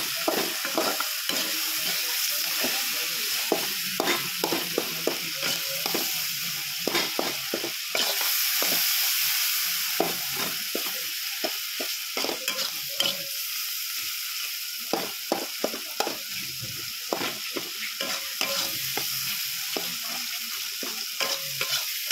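Spices, coriander leaves and garlic for a Bengali fish kalia are stirred in a pan, with a constant quiet sizzle and repeated sharp scraping clicks of the spatula at an uneven rhythm.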